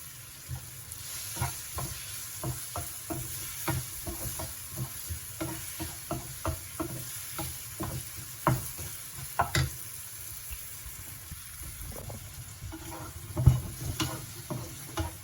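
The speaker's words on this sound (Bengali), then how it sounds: "হয়ে গেছে পেঁয়াজটা ভাজা।" Sliced onion frying with sugar in a pan over raised gas heat, a steady low sizzle broken by repeated sharp scrapes and taps of a spatula stirring, close and fairly quiet.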